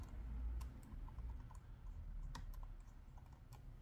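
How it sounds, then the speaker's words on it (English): Quiet typing on a slim wireless computer keyboard powered by AA batteries, about laptop size: soft, sparse key clicks over a low background hum, close to the microphone, with no talking. "I'm trying to show you the sound of the keys on the keyboard"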